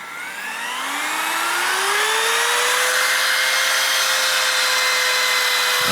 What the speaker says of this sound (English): We're gonna turn on this trim router.